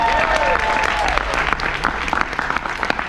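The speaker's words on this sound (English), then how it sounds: "Y'all clap it up for Idris Sandu." An audience claps for Idris Sandu at a talk on culture, business and technology with Nipsey Hussle, a full, steady burst of applause and some crowd noise filling the whole stretch.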